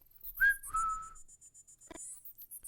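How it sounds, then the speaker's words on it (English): Someone whistling in the PC game Varney Lake, a few clear sliding whistled notes alone over a faint repeating electronic tone. "You think you hear someone whistling."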